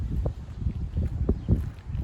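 Gusty wind in Oceano, California buffets the microphone in low rumbling bursts, rising and falling unevenly throughout with no other clear sounds.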